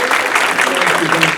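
Steady, dense applause from an audience at a Hindu cremation fundraising program, a continuous loud wash of clapping filling the short moment.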